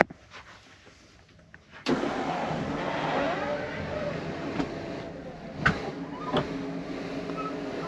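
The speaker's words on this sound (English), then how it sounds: "So let's get the rear slide out." Rear slide-out of a Expeditions RV bus extending, a steady electric motor drone that starts abruptly after a quiet moment and runs on with a few knocks and clunks along the way.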